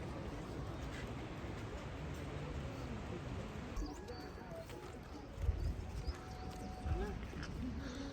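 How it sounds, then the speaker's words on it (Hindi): Horses being readied at the trailhead of the Fairy Meadows trek, with quiet hoof clops and shuffling in an outdoor setting, occasional birdsong and faint voices in the background. "हमारे घोड़े तैयार हो रहे हैं।"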